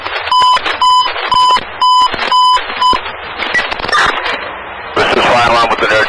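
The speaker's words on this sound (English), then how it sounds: "This is fire alarm with an urgent message" A fire alarm dispatch alert on Boston police radio during the 2013 Boston Marathon: a string of six loud, evenly spaced beeping tones, followed by harsh radio static and noisy transmission.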